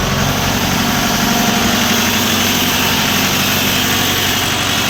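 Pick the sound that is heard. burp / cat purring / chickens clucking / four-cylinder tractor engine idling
four-cylinder tractor engine idling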